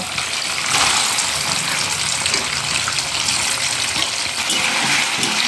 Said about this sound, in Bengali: তেল গরম হয়ে গেছে, মা এবার পনিরগুলোকে ভেজে নিচ্ছে।